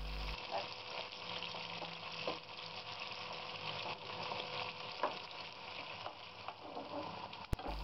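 Oil sizzles and crackles steadily as bottle gourd pieces fry, a continuous close hiss with a few small pops and no talking.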